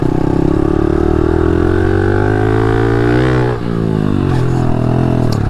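A 110 pit bike engine revving hard as the rider approaches a freestyle ramp, a loud, close, buzzing single-cylinder drone with pitch rising and dipping briefly near the end.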